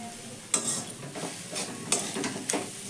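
Ground soybean stuffing mixed with spices and salt being stirred in a pan, a few distinct scraping strokes over a soft background sizzle, fairly quiet and close, no talking.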